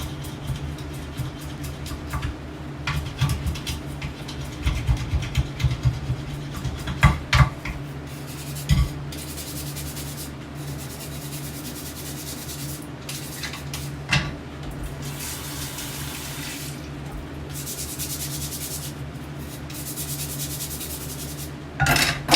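A wooden spatula is scrubbed and scraped with soap at a kitchen sink, giving steady close rubbing and scraping, with scattered sharp knocks and clatters, and no speech.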